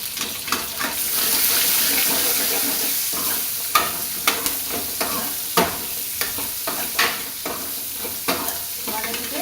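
Small and large cut onions sauté in a pan for a tamarind okra curry, a bright steady sizzle with regular clacks of a spoon stirring, close up and without speech.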